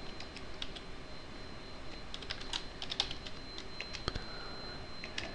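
Someone types on a computer keyboard with quiet, irregular key clicks over a faint steady hum, with no talking.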